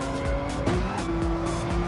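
Onboard a Porsche race car in Gran Turismo 7 during a six-hour Spa endurance event, the engine drones steadily up close as its pitch climbs and drops through quick gear shifts, with light tire noise and no voices.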